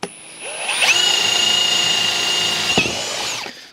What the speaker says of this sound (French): le perçage avec une planche de médium que je vais percer avec un forêt de 10 mm de diamètre